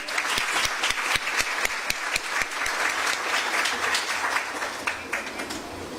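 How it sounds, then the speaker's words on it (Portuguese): Audience applause at a Spiritist week gathering, crisp individual claps close by over a softer mass of clapping from the room, holding steady for several seconds. "os aplausos para ela, por favor"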